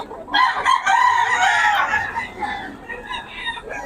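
A rooster crows loudly and close by in a long, strained call at a festival expo, followed by softer clucking and fowl sounds.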